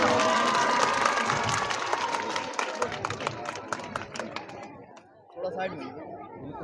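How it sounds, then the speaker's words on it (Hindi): Audience at a farewell ceremony applauding to welcome the trainers, dense clapping mixed with crowd chatter and cheering that thins out toward the end, while voices talk over it. "पीछे खड़े तालियों से स्वागत करिए अपने सभी ट्रेनरों का"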